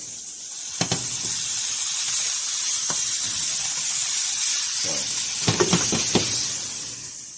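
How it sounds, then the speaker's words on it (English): Chunks of beef sear in hot oil in a pot for a homemade beef stew, giving a continuous close hiss and sizzle broken by a few sharp crackles and clinks, with no voices. "Starting to sear."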